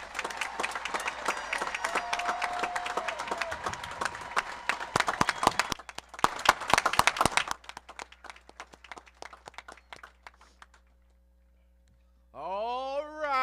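Applause from a high school graduation crowd for the class of 2023, steady broadband clapping with cheers for about seven seconds, thinning to scattered claps, then quiet before a voice speaks at the end.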